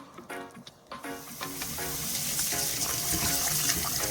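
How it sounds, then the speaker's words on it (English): Tap water runs into a bowl while rice is rinsed in a home kitchen, starting with a few splashes and clatters, then settling into a steady gushing stream. "So, I'm going to wash my rice."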